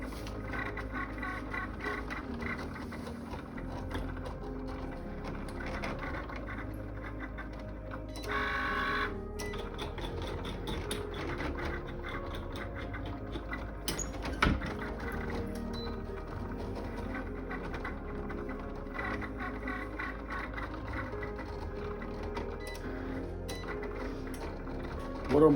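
A heat-transfer printer running out extra logo sheets, with a continuous mechanical whir and rhythmic clicking of the print carriage and feed, steady and moderately close over about half a minute.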